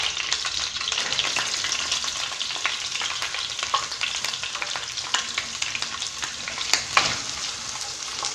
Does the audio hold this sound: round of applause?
no